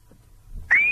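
A single whistle is blown during a live call to an FM radio show. After near silence, one sharp, shrill tone starts abruptly and holds steady, slightly rising, to the end.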